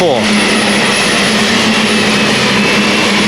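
A Hurricane superstock pulling tractor roars at a 1996 European tractor pulling event at Ahoy Rotterdam, a loud, sustained, turbine-like engine howl that fills an indoor arena with no break.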